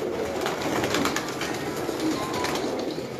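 Joker breed pigeons kept by a Sialkot fancier coo softly and continuously at close range, their low murmuring calls overlapping without any voices.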